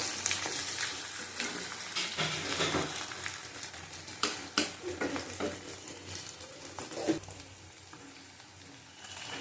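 Chopped vegetables with chilli, ginger, garlic, onion and tomato frying in fish oil, a busy crackling sizzle with bursts of louder spitting and occasional stirring, no talk.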